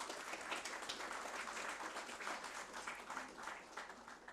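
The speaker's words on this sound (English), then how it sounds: "Please join me in welcoming our distinguished panelists here with a warm round of applause." Audience applause welcoming panelists at the inaugural session of a conference on industrial policy, a continuous, even patter of many hands, faint and somewhat distant throughout.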